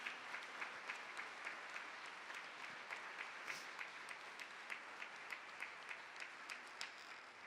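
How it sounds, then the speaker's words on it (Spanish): A church congregation at a mission centre event claps in a quiet, rhythmic unison beat, regular strokes repeating for several seconds, heard faintly and without voices. "vamos a darle un aplauso al Señor."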